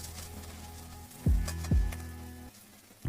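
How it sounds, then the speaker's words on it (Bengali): Fish pieces frying in hot oil with a little turmeric, for a rohu curry cooked with curd, giving a soft close sizzle with a few louder bursts as the pan is stirred, no talk. "সামান্য একটু হলুদ দিয়ে দিলাম, দেখুন কি সুন্দর ভাজা ভাজা হয়ে গেছে"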